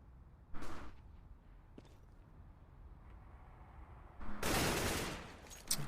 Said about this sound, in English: Nice headshot there coming in from Spanky Boy in toilets.